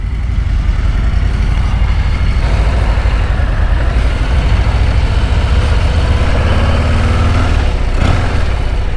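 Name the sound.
2023 Harley-Davidson Low Rider ST motorcycle engine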